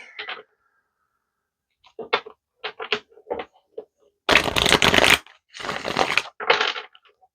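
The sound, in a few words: tarot cards being drawn out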